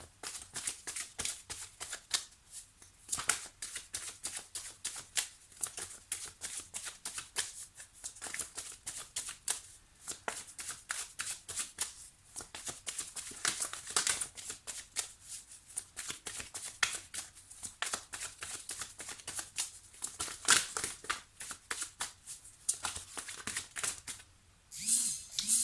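Tarot cards shuffled by hand in long runs of rapid, crisp papery flicks and riffles, close and moderately loud, with short pauses between bursts.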